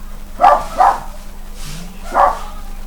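Dogs bark three times at moderate distance, two quick barks followed by a pause and then a single bark, over a quiet background with no talk.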